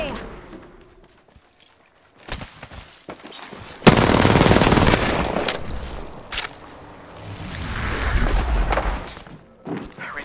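Video game gunfire rings out in bursts, with a loud sustained volley midway and further scattered shots and thuds, partly under a player's talk.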